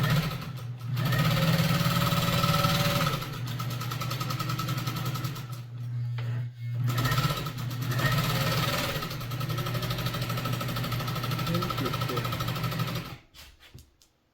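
A Pfaff 50010 sewing machine stitching a pattern, a close, steady mechanical whir with rapid rhythmic needle clatter, briefly stopping twice and winding down at the end.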